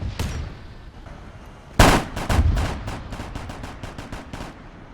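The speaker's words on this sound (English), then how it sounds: "You're hearing that AT constantly firing." Gunfire from an Arma 3 battle rings out in a loud burst followed by a rapid, steady string of shots that continues to the end, with distant weapon noise at the start.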